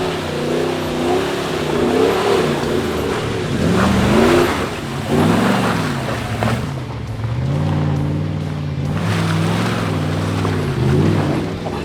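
Car engine revving hard while climbing a slippery snowy hill, rising and falling in pitch as the vehicle strains and the revs surge, loud and close with no talk.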